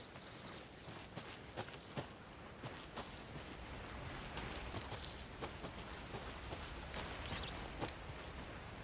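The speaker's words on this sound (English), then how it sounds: "Should have brought an umbrella. I like the rain." Steady rain falls across a dark forest in the video game Alan Wake 2, a dense broadband hiss with scattered sharper drips and taps throughout, no voices.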